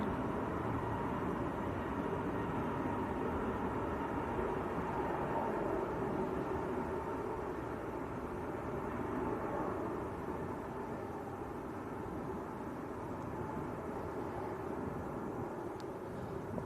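An EasyJet airliner passes at Manchester Airport, a steady broad roar of jet engine noise holding at a constant loud level throughout with no voices over it.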